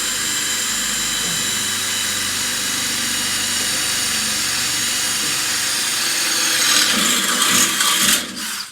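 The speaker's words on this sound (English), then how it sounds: "gonna drill once on each side, see what happens." An electric drill grinds steadily through a metal propane bracket for a vintage 1954 camper, with a loud whining rasp that swells and bites harder near the end before cutting off abruptly.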